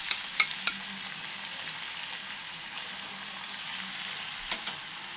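Mutton curry with a spoonful of yogurt sizzles steadily in a pan, a dense even hiss broken by a few sharp spatula clinks against the metal, with no talking.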